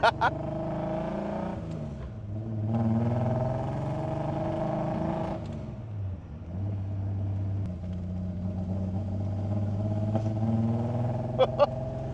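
A Datsun 240Z engine idles roughly after a stall, a low uneven rumble that dips and recovers with a couple of blips of revving, close by, with a few sharp clicks at the start and end.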